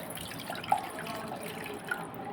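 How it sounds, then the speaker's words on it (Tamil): Ice water is poured while making a nongu nannari drink with lemon and soaked seeds, a faint, soft trickle with a couple of small splashes over a quiet background. "ஐஸ் தண்ணி ஊற்றிக்குவோம்."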